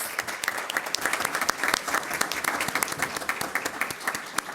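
Applause for the police chief of the City of Peoria Police Department at a school district governing board meeting, a steady dense clatter of many hands clapping throughout, fairly loud with sharp individual claps standing out.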